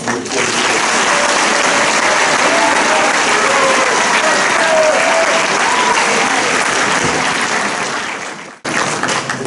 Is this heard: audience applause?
yes